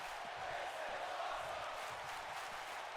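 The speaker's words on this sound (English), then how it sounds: "And the crowd chants, "This is awesome,"" A wrestling crowd at a live pay-per-view show chants in unison, a dense, steady roar of many voices filling the whole clip with no single voice standing out.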